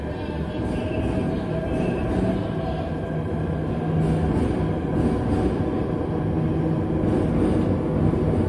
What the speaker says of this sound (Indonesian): itu keretanya baru jalan